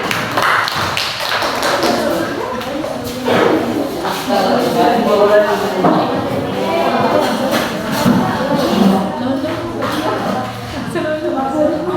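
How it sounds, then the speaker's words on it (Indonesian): A classroom audience claps after a student group finishes its presentation, a dense burst of hand claps and taps that fades and swells, with murmured voices mixed in. "Tepuk tangan."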